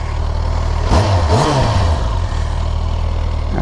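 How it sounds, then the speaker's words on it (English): Motorcycle with its stock factory exhaust, a steady idle with a single rise-and-fall blip of revs near the middle, loud and close, then settling back to idle. "for a factory exhaust, it's not the worst I've ever heard."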